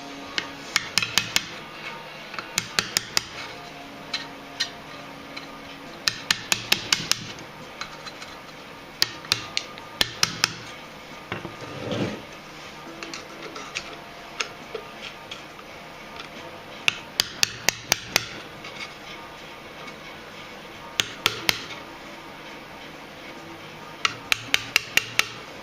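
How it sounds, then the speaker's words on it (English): A small screwdriver taps a locking tab out of the rear axle and suspension of a 1959 Triumph TR3A under restoration. Sharp metallic taps come in quick clustered bursts, close and loud, with pauses between the groups. "Just tap it out with a small screwdriver."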